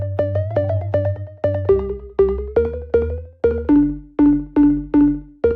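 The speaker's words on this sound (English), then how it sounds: "This is a very tight delay sound" A synth plays plucky notes through a very tight slap delay with its filter opened, producing a steady run of short, punchy hits with fast echoes and a shifting bass line, loud and alone for about five seconds.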